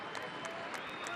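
Stadium fans at an El Paso Locomotive FC versus Austin Bold FC soccer match applaud a player holding up a number 11 jersey, a steady wash of distant clapping with faint crowd murmur throughout.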